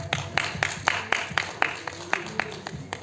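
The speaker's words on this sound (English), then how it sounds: "That's a big clap." Audience at a film seminar on shorts and documentaries breaking into applause, a quick run of about a dozen crisp, evenly spaced claps, close and fairly loud.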